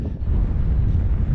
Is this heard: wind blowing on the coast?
yes